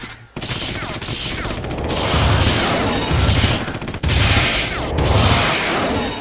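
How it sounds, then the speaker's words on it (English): Turret gunfire in the Red Faction video game, dense rapid bursts of shots with crashing impacts, loud and continuous with two brief cutoffs. "you're not going to begin to comprehend the frickin' bullets heading your way"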